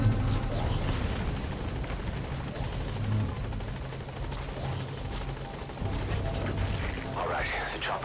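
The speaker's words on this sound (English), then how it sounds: "Alright, the chopper's touching down." Helicopter touching down in Metal Gear Solid V: The Phantom Pain, a loud steady rotor drone holding throughout with faint talk at moments.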